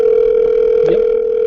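A telephone dial tone plays loud and steady, one continuous hum that cuts off abruptly near the end, with a faint click midway.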